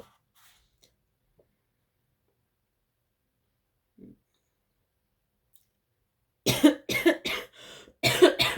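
Near silence, then a close series of harsh coughs in quick bursts, with a brief pause before a final cluster.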